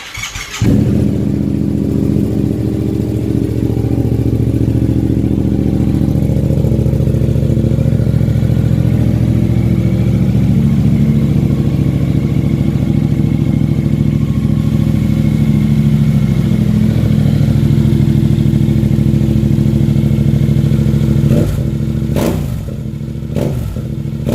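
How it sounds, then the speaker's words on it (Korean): A Yamaha MT-07 motorcycle with a deep, throaty Akrapovic aftermarket exhaust starts and idles loudly and close by, a steady rumble for about twenty seconds, then a few clicks. "이제 아크라포빅 MT07 소리를 한번 들어볼게요"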